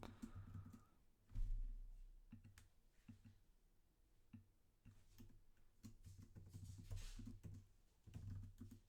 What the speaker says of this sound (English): So I'll just kind of type in, one name here